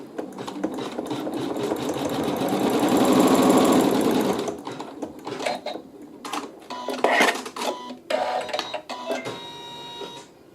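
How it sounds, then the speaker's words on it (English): A sewing machine stitches a quilt seam through fabric with right sides together, running in a steady close whir for about four seconds, then stopping and starting in short bursts with clicks and handling noises. "And I'll stitch the seam."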